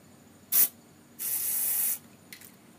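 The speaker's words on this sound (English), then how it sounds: "spray right in there" An aerosol can of carb cleaner sprays into a Briggs and Stratton engine carburetor in short bursts: a quick blast, then a longer steady hiss of about a second, and a brief final puff, close by.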